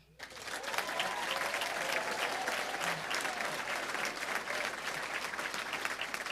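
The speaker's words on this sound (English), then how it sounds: "So let's do a couple rounds of applause." A crowd applauds at a physician assistant program graduation ceremony, a dense, steady roar of clapping that starts suddenly and holds throughout, with some voices and cheering mixed in.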